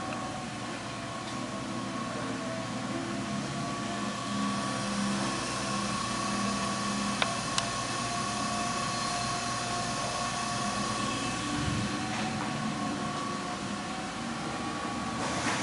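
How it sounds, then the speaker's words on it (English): DoALL 618-7 hydraulic surface grinder with its spindle running at 3,600 RPM, a steady, quiet hum with a few faint clicks, no talking over it. "let them hear the spindle. That spindle's still running. Super quiet spindle."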